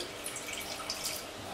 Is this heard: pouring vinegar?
yes